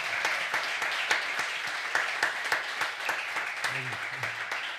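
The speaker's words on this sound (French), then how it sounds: "Alors, on applaudit." An audience at a comedy show claps in a steady patter, moderately loud, with a few brief voices rising over it toward the end.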